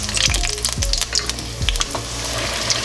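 Chimichangas fry in hot oil, a loud, close bubbling sizzle with crackling pops and a few low thuds as they are turned.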